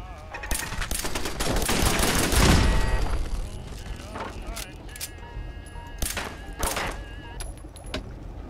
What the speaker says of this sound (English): Okay, I tried to shoot the radio.